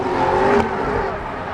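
A 780-horsepower BMW M3 drift car with an M5 engine, on a motor-show demo track in Luxembourg, revs hard. The loud engine rises to a peak midway, then eases off over a second and a half.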